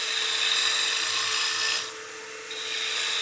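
Spindle gouge cutting a long, unsupported wooden baseball bat spinning on a lathe, a steady close scraping rasp that briefly softens midway before resuming, with no talking.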